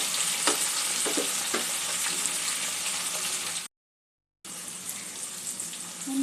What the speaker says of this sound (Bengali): পেঁয়াজ টমেটো একটু ভাজা হওয়া পর্যন্ত অপেক্ষা করব।